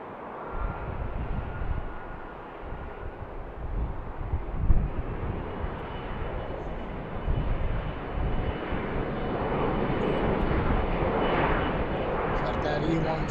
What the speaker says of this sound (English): Delta taking runway.